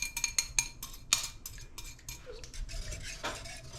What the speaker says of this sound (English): Really give it a good stir before I put the lid on.